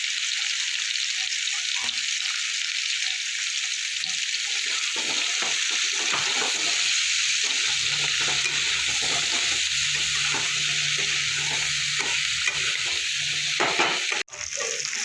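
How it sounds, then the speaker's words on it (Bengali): Potatoes frying in oil with a little turmeric, a constant bright sizzle with occasional stirring scrapes and a low hum, ending in a sharp knock. "সামান্য একটু হলুদ দিয়ে ভেজে নেব"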